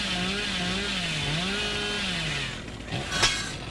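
Billy's chainsaw revving in the video game Dead by Daylight, a loud, close, continuous wavering motor whine that rises and falls in pitch, then cuts off into a short burst of clatter at the end.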